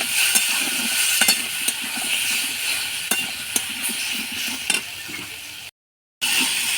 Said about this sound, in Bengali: অল্প জল দিয়ে দেবো, মশলাটা যাতে না পুড়ে যায়, দিয়ে ভালো করে কষে নেব।